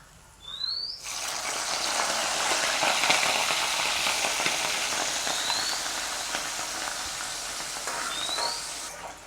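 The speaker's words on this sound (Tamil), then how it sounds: "இப்போ வந்து எங்களுக்கு கறி மிளகாயும் பொரிஞ்சிட்டு அதை நாங்கள் எடுத்துடுவோம்." Curry chillies frying in hot oil for hotel-style vegetable rice: a steady, close, loud sizzle that starts abruptly and holds throughout, with faint chirps over it.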